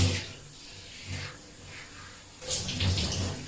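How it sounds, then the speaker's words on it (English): Water runs over natural hair in a rinse before shampooing, a steady splashing hiss that eases midway and then swells louder toward the end. "So I always like to give it a good rinse through before I go in with the shampoo"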